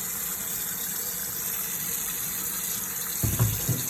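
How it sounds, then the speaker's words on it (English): Tap water running steadily into a sink while barber tools are washed with soap, a continuous rushing flow that turns splashier near the end as something meets the stream, with no talk. "So I just put them in here in the sink, put a little soap on them."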